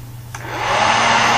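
A hair dryer switches on and blows hot air onto an Arduino temperature sensor, its steady whooshing roar rising within the first half second and holding loud and close, with a low motor hum beneath.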